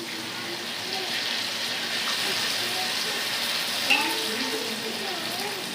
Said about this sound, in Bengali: আলু কিছুক্ষণ ভেজে নিচ্ছি